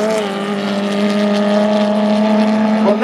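A Fiat 600 race car goes by on a circuit, its engine a loud, steady buzzing drone that holds close for about three seconds before the pitch shifts slightly as it passes.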